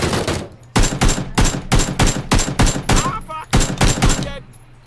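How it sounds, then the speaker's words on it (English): Rapid gunfire in the video game PUBG rings out as about a dozen close, loud shots in quick uneven bursts, ending in a short quieter tail. "I'm being shot."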